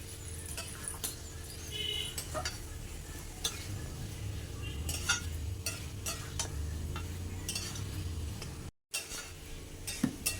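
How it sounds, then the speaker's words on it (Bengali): Potatoes sautéing in oil sizzle quietly while a utensil stirs and clinks against the pan in scattered taps, with a brief dropout near the end. "এখন আলুগুলো দিয়ে দেবো দিয়ে ভালোভাবে কষে নেব"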